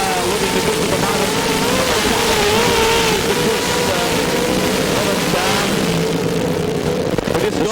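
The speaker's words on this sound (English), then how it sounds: "That motor sounds like it has some big problems, guys." A heavy gravel sprint car, the Elder 79, running with a troubled engine at a 2005 Mildura speedway meeting, its loud, steady roar wavering in pitch against crowd noise and a commentator talking throughout.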